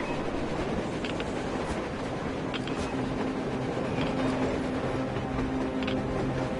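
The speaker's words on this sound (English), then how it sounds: "A train! A damn train on the surface!" A train rolls across the surface through a blizzard in the video game Metro Exodus, a continuous dense rumble of wheels and carriages under a steady roar of wind, with faint metallic clicks now and then.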